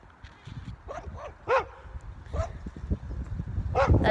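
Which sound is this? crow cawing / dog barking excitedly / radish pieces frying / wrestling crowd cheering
dog barking excitedly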